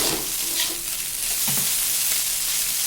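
Bombay duck (loitta) fish frying in a pan, a close, steady hiss of hot oil with small crackling pops scattered through, no voices.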